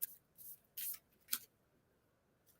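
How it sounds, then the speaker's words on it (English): A few short, crisp riffling bursts of cards being shuffled, quiet and close, separated by brief pauses. "this is a long shuffle"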